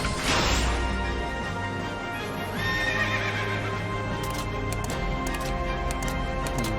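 A horse neighs loudly and gallops with steady hoofbeats in the video game Final Fantasy XIII, set against a dense, continuous game soundtrack and effects.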